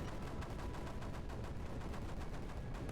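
Mortar defenses firing in Creeper World 4, a steady, dense stream of repeated muffled booms and thuds with no pauses, moderately loud and continuous throughout.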